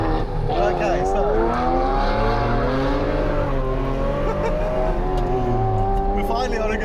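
A rare collector car cruises along an open road, its engine holding a steady, continuous drone close by with shifting pitch as it pulls, a voice talking over it throughout.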